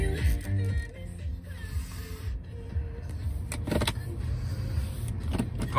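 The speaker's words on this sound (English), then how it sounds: "You just put your foot on the brake, press the start button." A 2019 BMW 225xe M Sport plug-in hybrid starting at the push of its start button, heard as soft mechanical clicks and a brief electric whir inside the cabin, with no loud engine roar.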